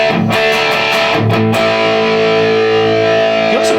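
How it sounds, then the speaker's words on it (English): A Boss Katana MkII amp running a Metal Zone distortion pedal model gives a loud, saturated electric guitar with a few choppy chords first, then one long sustained chord ringing out on its own. "so that's the rat, and there's a whole bunch. It's a metal zone."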